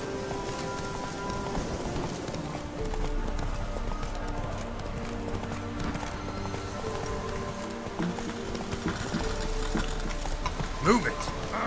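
Horse hooves clopping steadily in The Witcher 3, the mount Roach moving at pace with rain falling, a game score playing underneath and a voice briefly heard.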